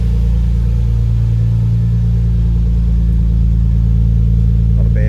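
A 1997 JDM Nissan 300ZX Z32 twin-turbo engine idles steadily up close, a loud, even, deep rumble with a throbbing low drone that holds throughout without revving.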